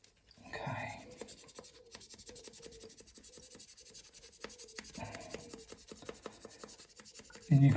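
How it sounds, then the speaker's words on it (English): Micro mesh sanding pads rub over a Savinelli Tevere estate pipe with water, producing faint, rapid scratchy strokes in close repeated bursts, with a brief louder knock at the end. "And you can find these on Amazon or eBay, micro mesh sanding pads."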